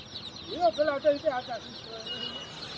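Colorful chicks for sale in Nalgonda cluck in a short burst of several calls, with softer chirps and clucks continuing behind.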